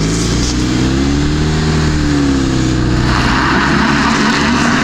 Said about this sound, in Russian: Одно колесо крутится, видишь?